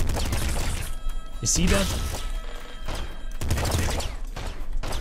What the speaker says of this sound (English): that is the kind of fire rate that I would normally expect from a machine gun